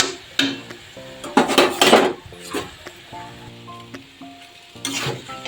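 A utensil scrapes and clanks against a metal pan as taro leaf greens are stirred to cook off their water, with irregular close knocks and scrapes over a faint sizzle.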